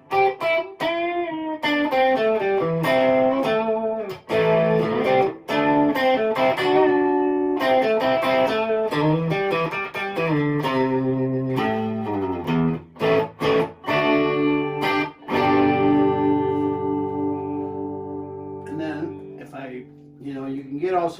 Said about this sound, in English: one of the things I really like about this particular distortion pedal is that it doesn't make everything so distorted